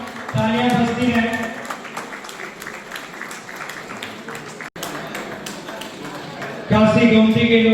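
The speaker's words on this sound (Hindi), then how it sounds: "एक बार जोरदार तालियां तालियां बजती हैं" Applause from an audience at a public honouring ceremony in Azamgarh, steady and sustained through most of the stretch, with a louder surge near the end and speech mixed in at times.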